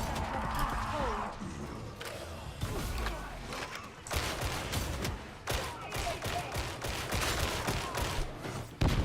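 Enemy gunfire in the shooter Warhammer 40,000: Darktide, a rapid volley of sharp cracking shots in bursts alongside mechanical clanks and thuds, with some voices mixed in.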